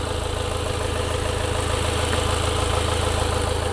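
A car engine idles steadily during an intake system cleaning treatment, with a loud, even, continuous low rumble and throb heard close up, no voices.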